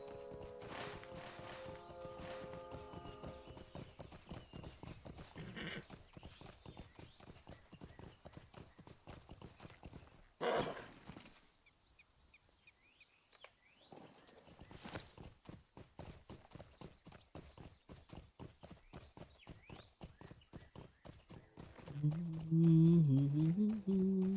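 Steady clip-clop of horse hooves trotting along in the game The Lord of the Rings Online, with a brief whinny partway through and some game music or effects swelling near the end.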